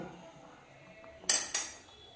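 A cooking pot taken off the stove, two sharp metallic clanks in quick succession ringing briefly over a quiet kitchen background.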